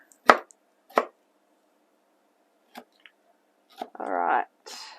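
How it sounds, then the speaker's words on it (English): A knife chops tropical fruit on a board for a fruit cup, with a few sharp, separate chops spaced apart and a short scraping slide near the end, heard close in a quiet room. "Alright, just chop."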